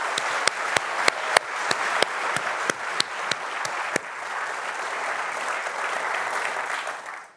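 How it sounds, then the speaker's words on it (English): A live event audience gives a round of applause, opening with sharp, spaced individual claps up close that swell into a dense, sustained wash of crowd clapping before fading out at the end. "Let's go ahead and give Alex and the entire Innovation Studio team a round of applause."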